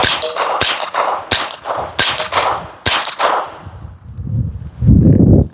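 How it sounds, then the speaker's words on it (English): A CMMG AR .22 LR pistol fires off the rest of its magazine: five sharp, loud cracks at uneven intervals, followed by a low rumbling noise. "We'll finish the rest of this mag off"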